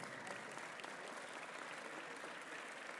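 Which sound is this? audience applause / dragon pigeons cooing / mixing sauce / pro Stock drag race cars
audience applause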